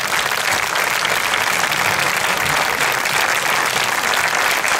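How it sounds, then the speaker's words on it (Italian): Steady, dense applause from a concert audience after an orchestra performance, a continuous wash of many hands clapping at even loudness throughout. "Grazie, forte questo applauso"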